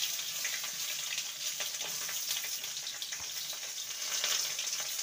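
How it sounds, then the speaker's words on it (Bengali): Pointed gourd and potato slices frying together in mustard oil, a continuous hissing sizzle with scattered crackles and light stirring, steady and moderately quiet with no speech. "পটল আর আলুকে একসঙ্গে ভেজে নেব"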